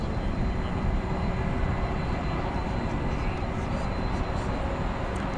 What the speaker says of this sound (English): 767 coming our way as we wait for the 747 to take off.